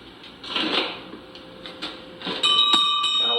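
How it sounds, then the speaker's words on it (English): A cow bell in a small museum collection is handled, giving soft knocks and rattles followed by a brighter metallic ring that lingers near and faint. "Cow bell."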